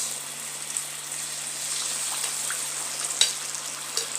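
Potato bhajias, battered potato slices, fry in hot oil with a steady soft sizzle and hiss, a few brief pops and crackles breaking through near the end; no voices.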